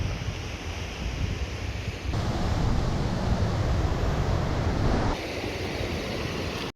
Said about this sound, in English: There's a small breeze running up directly behind me